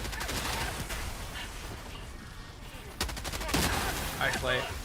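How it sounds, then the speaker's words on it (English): Enemy artillery and gunfire in the video game Helldivers 2: a dense barrage of shots and booms fills the clip, with sharper blasts near the end, while voices talk underneath. "Guys, I think we're in range of enemy artillery."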